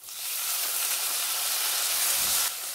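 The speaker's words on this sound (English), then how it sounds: "and ginger garlic paste. Saute it 1 minute." Ginger garlic paste with green chili sautéing in a hot pan gives a loud, steady steam-like hiss that holds throughout and drops slightly at the end.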